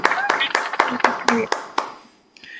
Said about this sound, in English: let's give a huge round of applause to Pooja